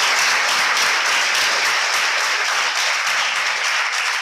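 Students at an International Women's Day celebration applaud their teachers, loud, dense, continuous clapping close by with no talk over it.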